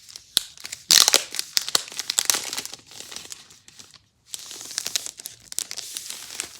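Vinyl record packaging being opened by hand, with dense crinkling and crackling of plastic wrap in bursts, a brief pause, then more rustling and crumpling close up.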